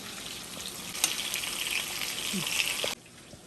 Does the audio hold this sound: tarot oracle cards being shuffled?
no